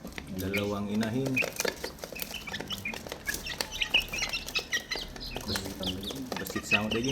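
Two hens at a farm with roosters clucking in short repeated bursts, mixed with rooster calls and other fowl, close and fairly loud, while people talk throughout.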